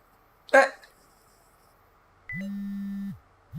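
A steady low electronic buzz from a vibrating collar alert in the video game Your Turn to Die. It follows a short sharp burst, holds for under a second, and a second buzz begins right at the end.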